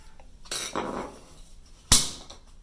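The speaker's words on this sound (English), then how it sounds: "You score it a few times. Your screwdriver works great for this part." A screwdriver scores old caulk around a toilet base, giving a short gritty scrape followed by a sharp, close metallic click.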